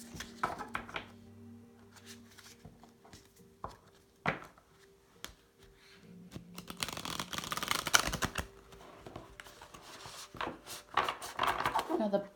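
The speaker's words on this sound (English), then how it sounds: "And I'll pull a card from the Wild Unknown Animal Spirit deck." Someone shuffles a Wild Unknown Animal Spirit card deck close by, with quick papery riffles and taps. The busy shuffling builds in the second half, and a faint tone runs beneath it.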